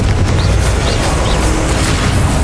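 A Confringo fire spell blasts in the Hogwarts Legacy video game, a dense, steady roar of explosive rumble with a few faint whistling streaks riding over it, loud and continuous with no clear break.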